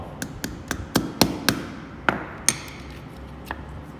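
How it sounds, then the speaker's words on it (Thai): A pin is tapped into a Casio watch strap in a series of sharp, bright metallic taps, about ten strikes in an uneven rhythm, close and crisp against a quiet background. "ปากคีบที่เป็นคีบๆอย่างเงี้ยชี้ขึ้นฟ้านะครับ แล้วก็ตอกลง"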